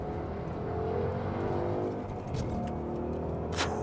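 A Ford Mustang's 5-litre engine rumbling and revving nearby, deep steady growl with a few sharp clicks near the end.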